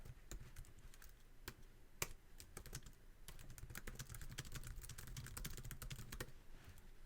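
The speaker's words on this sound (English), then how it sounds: "Type in your text." Steady typing on a computer keyboard, with quick close key clicks running continuously at low volume and no talk.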